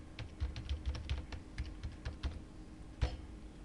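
Someone types a username and password on a computer keyboard, a quick irregular patter of soft key clicks, with a louder keystroke near the end.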